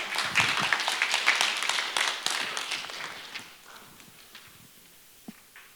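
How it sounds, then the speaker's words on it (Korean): Audience applause at a live relay talk event in Daejeon, a dense burst of many hands clapping that tapers off over a few seconds into a quiet room. "박수 한번 부탁드립니다."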